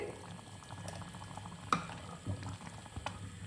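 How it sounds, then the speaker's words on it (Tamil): Eggplant kosmalli curry (kathrikkai kosmalli) bubbles at a gentle boil in a pot, a soft, faint burble with occasional small clinks and pops, close by and quiet, with no voices. "பாருங்கள், நல்லா கொதி வந்துட்டுருக்கு"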